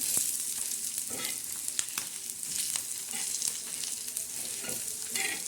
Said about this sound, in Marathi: हा मसाला असा छान असा असा खालवर करत राहायचा म्हणजे भाजतच राहायचं